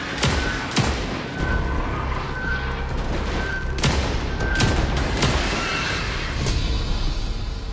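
Revolver gunshots from the sci-fi shooter Alien Rogue Incursion, a loud series of sharp cracks at irregular intervals, roughly eight shots, over a steady backdrop of game ambience and rumble.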